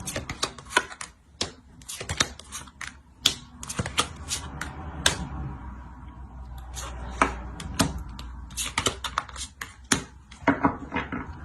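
Cards are drawn and set out during a card reading, producing quick, close, irregular clicks and taps, with brief pauses between clusters and a faint background hum.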